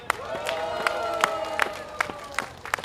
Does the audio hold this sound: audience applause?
yes